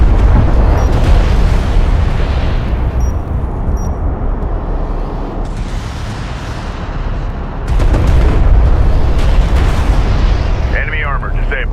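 Heavy explosions roar in the Homeworld Deserts of Kharak strategy game, a loud dense rumbling barrage that swells and eases over several seconds.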